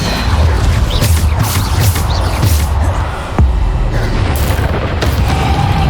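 Blasts from the Bombarda spell go off in the Hogwarts Legacy video game, a dense run of loud booming impacts and crashes packed amid busy combat effects, with no talking.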